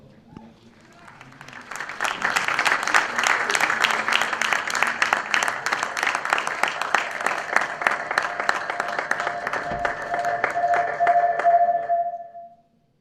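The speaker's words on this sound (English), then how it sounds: "let's give a final round of applause to our champions" A loud, sustained round of audience applause for the champion team at a Dota 2 esports tournament, the Telkom DGL Masters, swelling quickly and holding steady for about ten seconds before cutting off.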